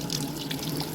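Water flows steadily from a Nicolazzi Regal slide shower and diverter mixer on low pressure, a continuous soft hiss and splash with no voices.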